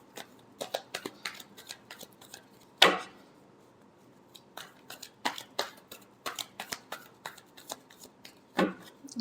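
Tarot cards being shuffled and handled, a series of crisp short slaps and riffles at close range with a couple of louder snaps, quiet pauses between, no speech.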